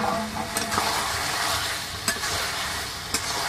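Meat sizzles and fries steadily in a pan as it is stirred, a continuous bright crackle broken by a few sharp scrapes of the spoon against the pan.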